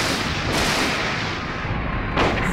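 A hunting rifle fires in the video game Silent Hill, with two loud, sharp shots about 1.7 seconds apart over dense, steady background noise.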